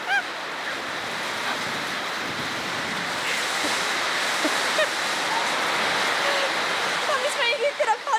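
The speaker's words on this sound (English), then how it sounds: "it's getting a bit windy" Steady rushing wind roars across the microphone, a broad constant whoosh with faint voices and birds in the distance.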